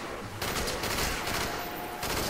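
Rapid gunfire rattles in Black Ops zombies gameplay, a dense burst of automatic shots with a brief gap before the firing resumes, loud and close throughout.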